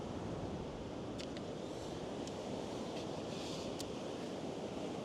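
Wind gusting by the sea on a kelp-strewn shore while fishing, a loud continuous rush of buffeting noise mixed with surf, with no talk.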